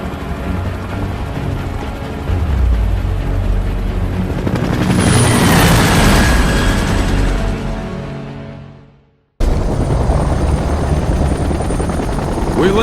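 A helicopter's loud rotor thumping and engine whine in the video game Gears of War: Judgment roar continuously up close, swelling, cutting out abruptly, then resuming at full volume.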